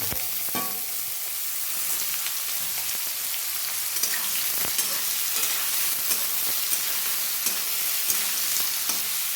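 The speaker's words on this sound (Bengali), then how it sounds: "কেটে রাখা মূলোগুলো দিয়ে দেব দিয়ে ভালো করে ভেজে নেব" Cut radish pieces fry in a pan with cumin seeds, a steady close sizzle broken by the scrape and clatter of occasional stirring, with no one talking.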